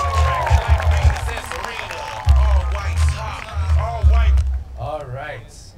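At a dance crew competition, the crowd applauds, cheers and yells loudly for a dance crew, with whoops, heavy thumping and excited voices throughout.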